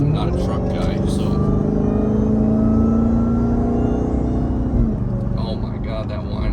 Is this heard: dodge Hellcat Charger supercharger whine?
yes